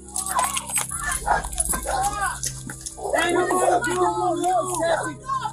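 A dog barks and yelps repeatedly during a police search of a home, sharp close barks and whimpers scattered through the clip amid shouting officers and commotion.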